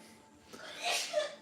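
One quick, fairly faint sneeze bursts out after a moment of quiet breathing, close by in a room.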